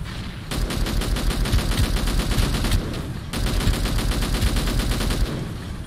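Gunfire in the game Angels Fall First rattles in fast, continuous automatic bursts, loud and close, with one brief pause before the rapid firing resumes and runs to the end.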